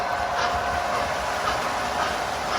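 A standard gauge toy Christmas train runs on its track, a continuous rolling rumble with faint rhythmic clicking, steady and close with no talking.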